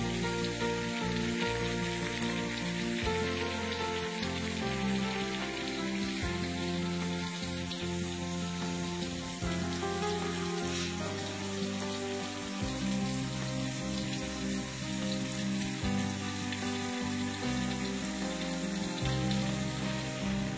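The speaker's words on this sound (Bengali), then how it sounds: "একটু সময় নিয়ে কষিয়ে নিচ্ছি, বারবার নেড়ে চেড়ে দিচ্ছি যেন মশলাটা নিচে লেগে না যায়।" Elephant apple pickle masala sizzles steadily in a pan while being stir-fried over medium-low heat, a continuous close crackle and hiss with no talking.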